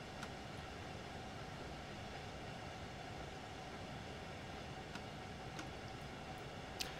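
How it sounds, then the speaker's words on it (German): Train passing an S-Bahn in Train Sim World 3, driven from an Intercity 2 cab on the Rhein-Ruhr-Osten route: a continuous low rumble and rolling rail noise with a few faint clicks, steady throughout. "Vorbei an der S-Bahn."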